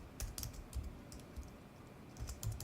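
Rapid typing on a computer keyboard while entering Angular code, with clusters of quick close keystrokes and short pauses between bursts, no talking.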